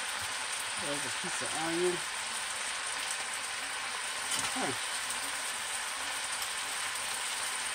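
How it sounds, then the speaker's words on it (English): Steady, close sizzling and crackling of boiled cabbage stir-frying in a hot pan, with a person briefly speaking over it. "Now, you can hear it's frying right along."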